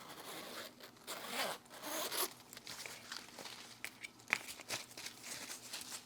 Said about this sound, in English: The zipper is really nice though.